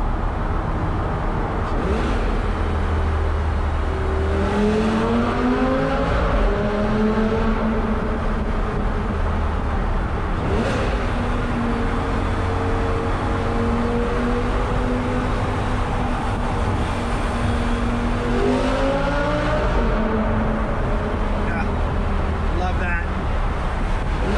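An even-firing V10 car, just back from an axle shaft repair, drives through an airport tunnel. Its loud engine note swells and falls through several rev changes over a constant road roar, with a reverberant, enclosed ring.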